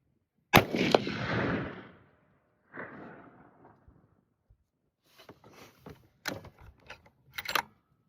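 A Christensen Evoke 7mm Remington Magnum rifle fires a single loud, sharp shot with a long decaying blast, followed by quieter clicks and clatter of handling the rifle.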